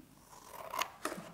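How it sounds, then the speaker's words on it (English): Scissors snipping through coloured paper to cut out an Easter egg shape, two distinct crisp cuts close by, the second following shortly after the first, with no talking. "We're going to cut our egg like this."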